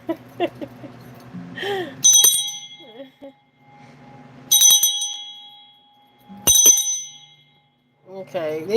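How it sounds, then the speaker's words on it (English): A bright bell is struck three separate times with pauses between, each ring decaying slowly, while a person talks briefly before and after. "Okay, they said ring that harder."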